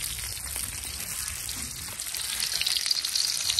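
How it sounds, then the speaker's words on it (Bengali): Mixed vegetables cook in a pot over a clay stove, giving a steady, moderately loud sizzle and bubbling hiss that swells slightly toward the end, with no voices. "হাতে সেই পাঁচমিশালি সবজি রান্না চলছে মাটির চুলায়"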